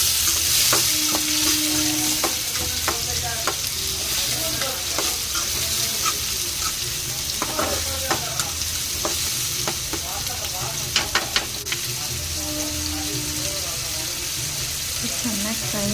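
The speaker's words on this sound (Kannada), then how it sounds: "ಅದಕ್ಕೆ ಸ್ವಲ್ಪ ಟೊಮೊಟೊ ಹಣ್ಣು ಹಾಕ್ಕೊಂಡು ಫ್ರೈ ಮಾಡ್ಕೋಬೇಕು. 2 ಟೊಮೊಟೊ ಸ್ವಲ್ಪ ಮೆತ್ತಗಾಗೋವರೆಗೂ ಫ್ರೈ ಮಾಡ್ಕೊಳ್ಳಿ." Tomatoes sizzle steadily in a hot pan for a shrimp curry while a utensil scrapes and taps through them in irregular bursts, close and continuous.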